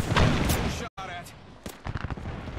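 Gunfire in a shooter video game aimed at the player while shields recharge, with sharp close bursts and a brief silent gap, then further scattered shots under ongoing talk.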